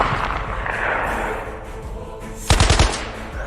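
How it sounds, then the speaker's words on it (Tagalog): Gunshots crack across farm fields in a Filipino aswang horror story, arriving as a sudden rapid burst of loud, echoing shots near the end over a steady rumbling background. "alingaw-ngaw na ng mga putok ng barel sa kabukiran"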